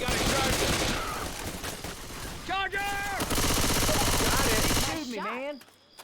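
Rapid gunfire from the Left 4 Dead 2 video game rattles loudly and continuously, mixed with game sound effects and short bursts of other game tones before cutting out near the end.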